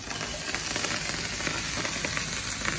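Carrots and other vegetables sizzle and crackle steadily in hot olive oil in a pan, a dense, close, continuous frying hiss with small pops throughout.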